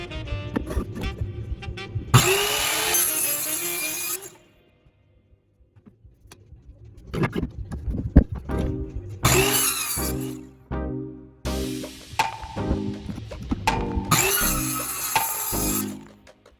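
A power saw cuts 45-degree angles in strips ripped from an old wooden pallet fence. There are three loud bursts, each a couple of seconds long, separated by lower machine hum and gaps.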